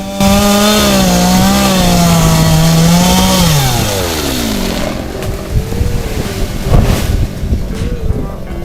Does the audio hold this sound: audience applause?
no